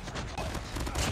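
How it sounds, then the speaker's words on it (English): A Rosie MSMC submachine gun fires in Call of Duty Mobile as a dense, rapid burst of shots running the full moment, loud and continuous. "This gun shoots so fast."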